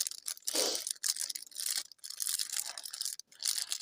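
Rubber stamps being unpacked, with crinkly plastic tearing and rustling close up in irregular bursts, no voices.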